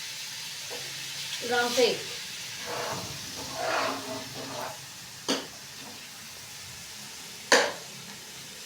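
Tomatoes tipped into a hot frying pan for an aloo chicken curry give a soft steady sizzle with a few spoon scrapes and clinks, fairly quiet under brief talk.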